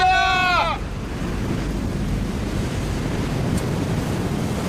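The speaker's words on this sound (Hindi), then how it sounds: "समुद्री लहरें इतनी ऊपर उठकर हमारी तरफ आ रही हैं। लहरें बहुत तेज हैं।" Stormy ocean waves in an animation give a continuous deep roar of surf and rushing wind, loud and steady after a brief high, wavering cry at the start.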